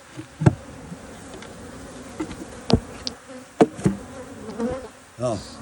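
Honey bees buzz softly in an opened hive, a low steady hum with occasional louder bees passing close, mixed with light handling knocks and clicks.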